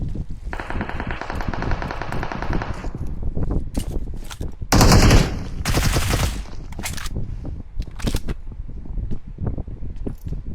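Gunfire in PUBG Mobile: rapid automatic bursts rattle close and loud, followed by sharp single shots and short volleys, some near and some more distant.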